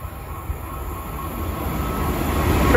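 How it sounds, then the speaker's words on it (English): A Pendolino train on the Crewe to London Euston service runs through platform 2 at Bletchley station, a steady rail rumble that swells and grows louder as it nears. "next through platform 2 is the service from Crewe to London Euston"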